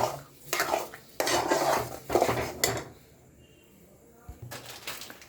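Patishapta batter being beaten with sugar in a bowl, heard as bursts of rapid clattering whisk or spoon strokes against the bowl that stop for a quiet stretch and then start again, with no talking.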